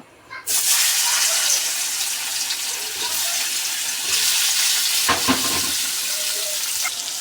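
Steady, loud sizzling of potatoes frying in hot oil in a kadai, with a brief clatter of stirring partway through.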